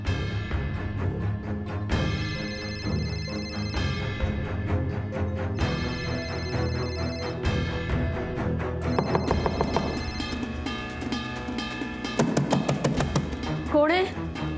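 A phone ringtone plays over and over during repeated unanswered calls, a bright melodic ring that loops about every two seconds and fills the whole stretch at steady loudness.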